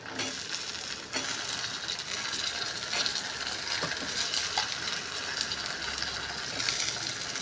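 Garlic fries in oil with urad dal and dried red chillies. The quiet, steady sizzle has occasional stirring scrapes and clinks running through it.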